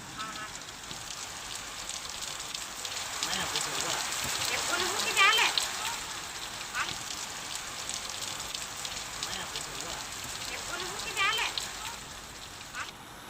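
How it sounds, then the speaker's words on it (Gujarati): Heavy monsoon rain falls in the town of Mahuva, Bhavnagar district, a steady close patter and hiss that swells slightly midway, with a few faint chirping calls over it. "મહુવામાં શહેરની અંદર વરસાદ છે।"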